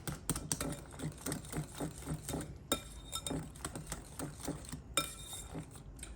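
A spoon scrapes and clinks steadily against a cooking pot while Himalayan pink salt is stirred into a creamy macaroni and cheese mixture. The taps come in a quick, regular rhythm, close by, fairly quiet, with no talking.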